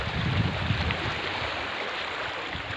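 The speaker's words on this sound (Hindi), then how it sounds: "देखिए कितना तेज़ रफ्तार चल रहा है पानी का." Fast-flowing flood water current, a steady, full rushing noise with a low rumble, close and loud throughout with no talk over it.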